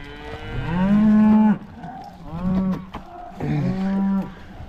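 Cattle and calves moo on a farm, with three long, loud, drawn-out lows close by, separated by brief pauses.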